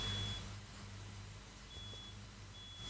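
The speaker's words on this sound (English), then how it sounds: "The fire alarm's going off here." A household fire alarm gives thin, high electronic beeps, one near the start and more toward the end, over a low background hum.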